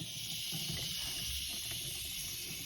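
A sink tap turned on full, gushing water in a steady, loud, broadband rush that holds unbroken from start to finish with no voices over it.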